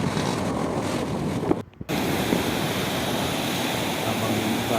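Strong wind roars over rough sea waves where small fishing boats are out, a loud, dense, continuous rush with one brief dropout, no voices heard.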